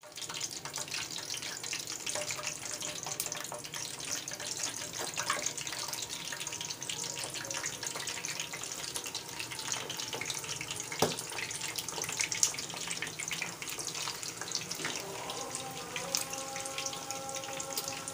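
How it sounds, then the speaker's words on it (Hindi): Potato kofta balls frying in hot oil in a pan, a steady, dense sizzle and bubbling hiss that holds level throughout, with a few faint clinks and no talking. "अब हम इनको फ्राई करेंगे।"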